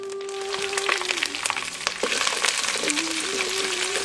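Steady sizzling of curry leaves, dried red chillies and shallots frying in hot oil for chicken curry, a continuous crackling hiss with occasional pops and stirring scrapes, close and fairly loud throughout.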